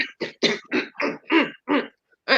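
A string of short, harsh coughs in quick succession, close up, with a brief pause before one final cough.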